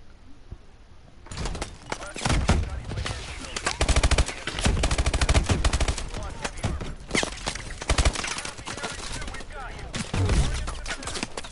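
Rapid machine-gun fire in the Call of Duty: Advanced Warfare campaign, dense sustained bursts of loud rattling shots with brief gaps, heavy and close for most of the stretch.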